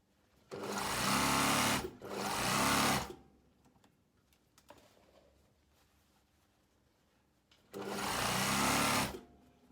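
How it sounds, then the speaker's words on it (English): A sewing machine runs in three bursts of steady, close stitching along the centre front seam of a box blazer, two back-to-back runs followed by a pause and then a third. "we're going to sew down the centre front again to complete the seam"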